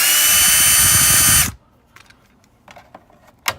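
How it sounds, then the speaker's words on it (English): A power drill whirring loudly for about a second and a half as it backs a screw out of an LG PTAC air conditioner, then cutting off abruptly, followed by light clicks and small handling taps nearby. "there's a screw right here we can take out."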